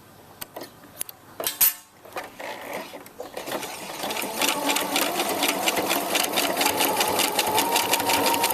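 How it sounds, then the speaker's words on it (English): A sewing machine stitching and backstitching a bra, a few sharp clicks and short bursts first, then a continuous fast whirring run close by. "And make sure you backstitch at the end."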